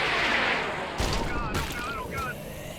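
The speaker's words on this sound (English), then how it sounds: "Let's use an airstrike." Airstrike explosions in the zombie defence game City Defence Z, a dense burst of blasts and booming impacts that starts strong and continues as a rumbling barrage, with some voice or whistling tones mixed in.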